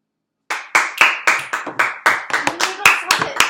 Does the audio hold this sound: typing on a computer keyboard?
no